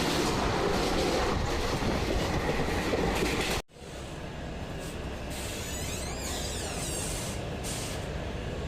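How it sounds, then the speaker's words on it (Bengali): Passenger train running on rails past Panskura station along the Kansai river near Khirai, steady loud wheel and carriage rumble with a brief sharp dip midway, then continuing rolling noise with faint clatter. "আমাদের ট্রেন এখন পাঁশকুড়া স্টেশন পার করে কাঁসাই নদীর তীরে ফুলের উপত্যকা ক্ষীরাইয়ের উপর দিয়ে চলছে।"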